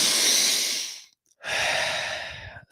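Breathwork breathing, one long forceful exhale, a brief pause, then another deep rushing breath, close and airy, with no talking.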